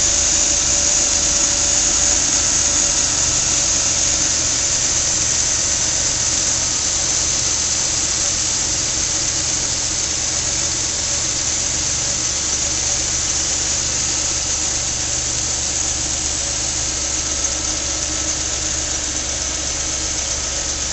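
A 2008 Chevy Impala with a 3.5 liter engine runs steadily, a loud, close, unbroken drone with a faint high whine over it and no talking.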